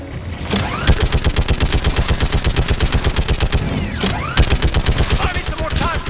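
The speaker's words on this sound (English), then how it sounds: "Shepard, you should be able to use the Geth turret." A Geth turret in the Mass Effect 3 video game fires in a loud, continuous rapid burst of rhythmic shots with brief pauses, while voices talk over the gunfire.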